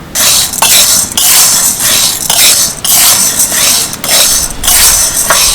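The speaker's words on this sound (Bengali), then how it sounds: "আর এই সাবুটাকে প্রথমে একটু হালকা কড়াইতে ভেজে নেব" Dry sago pearls being roasted in a wok scrape and rattle under a stirring utensil in loud, close, rhythmic bursts about every half second, with no talk.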